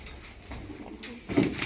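Soft, low cooing of pigeons in a coop nearby, a few murmured coos with a louder burst near the end, over light background rustle.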